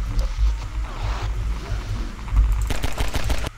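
Rapid gunfire in Half-Life 2 rattles in a quick burst near the end, after rumbling engine and splashing noise from an airboat ride.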